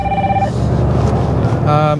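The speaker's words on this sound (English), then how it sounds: "and my phone's ringing." A phone rings in two short electronic bursts, at the start and near the end, over steady background noise.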